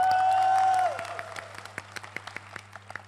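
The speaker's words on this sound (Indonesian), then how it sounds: "Coba tolong tepuk tangan yang nonton film Moana" Scattered audience members at a comedy show clap in a few sparse, separate claps after a sustained tone fades, the handclaps faint and irregular in a quiet room.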